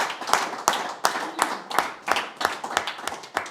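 Sparse audience clapping at a political meeting, roughly ten distinct separate claps spaced unevenly like a few people joining in, fairly close and moderately loud.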